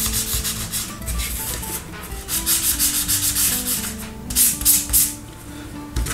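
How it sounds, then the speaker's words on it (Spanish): Fine sandpaper rubs by hand over the wooden hull of an OcCre Flying Dutchman ship model, producing close, repeated scratchy strokes in an uneven rhythm, some louder bursts, alone. "que la madera está lijada"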